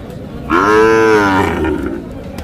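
A calf lets out one loud, drawn-out moo close by, rising and then fading after about a second.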